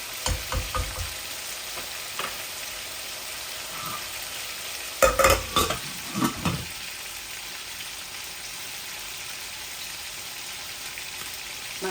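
Steady frying sizzle of pangas fish with satkara citrus in a pan fills the clip, with a few soft clinks and stirring scrapes, close up and with no voices.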